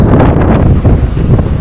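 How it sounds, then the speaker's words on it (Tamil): Strong wind at the seashore in Dhanushkodi roars continuously and loudly against the microphone, a steady buffeting rush with no speech. "என்ன காத்தடிக்குது"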